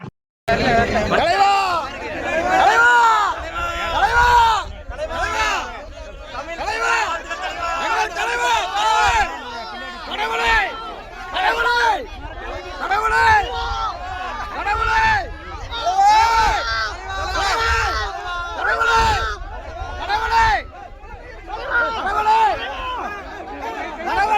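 Large excited crowd at a film shooting spot in Kerala, cheering and shouting in welcome for a star, dense chatter and shouts rising in repeated loud waves throughout.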